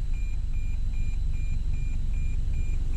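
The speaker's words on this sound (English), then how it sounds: "it's pretty annoying to have an alarm just going off in your car for no reason" A Toyota TSS 2.0 driver assistance alarm chimes in a steady, even rhythm of short beeps, about seven in a row, over a low background hum, going off for no reason.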